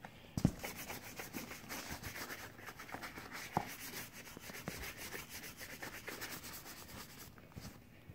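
A shell cordovan leather chukka boot (Alden Ravello, Barrie last) being cleaned, a soft, steady rubbing and scrubbing with a couple of brief light knocks, close and quiet.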